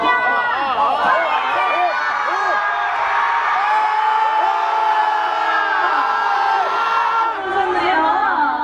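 Festival crowd of second-year university students at an outdoor campus concert shouting, whooping and cheering together, a dense loud roar of many voices that holds steady throughout.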